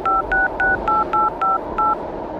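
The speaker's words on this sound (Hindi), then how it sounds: "हेमंत ने एक दो बार और नंबर डायल किया" Seven short touch-tone beeps sound in a quick, even sequence as a phone number is keyed in, loud and clear over a faint background hiss.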